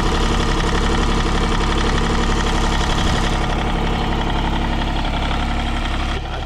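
An aging Yanmar YB25 crawler idles steadily, its engine producing a loud, close, even rumble with a rapid knocking pulse and mechanical vibration that continue throughout without voices.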